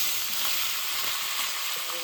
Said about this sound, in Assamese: মানে শুকানে ভাজি আছে মাংস